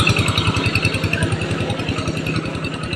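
Close motorcycle engine idling with a rapid, steady low-pitched thumping pulse and mechanical clatter, loud and continuous, without talking.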